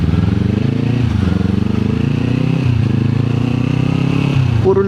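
Kawasaki Z400 parallel twin motorcycle fitted with an open pipe exhaust, idling and blipping with a deep, steady throb close by, loud and continuous without speech.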